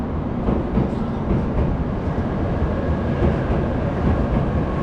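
A Japanese bullet train arriving at a station: a deep, steady rumble and rushing roar fills the air continuously, loud and close, with no voices.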